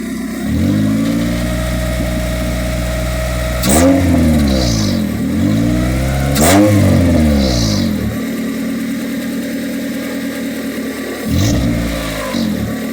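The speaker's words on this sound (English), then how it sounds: "The engine sounds amazing." A freshly started Honda Prelude H22A engine idles steadily, then revs up sharply several times with rising and falling pitch sweeps, close and loud with no talking.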